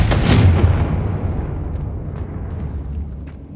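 A Confringo spell in Hogwarts Legacy blasts a bridge apart with one loud, close, booming explosion that rumbles and fades over a few seconds.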